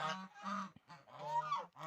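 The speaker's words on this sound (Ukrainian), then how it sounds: "Гуси наші ходять, гагагають" Domestic geese in a frozen farmyard at minus nineteen degrees honk and cackle in several loud, close calls with short gaps between them.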